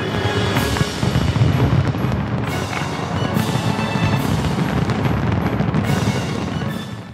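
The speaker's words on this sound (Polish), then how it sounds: "Fajerwerki na Placu Litewskim w Lublinie niczym nie ustępowały tym z dalekiego świata." New Year's fireworks over Plac Litewski in Lublin boom and crackle in loud bursts every second or so, above a continuous rumbling wash of distant explosions.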